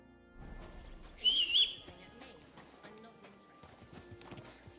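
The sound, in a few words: horse hooves clip-clopping in video game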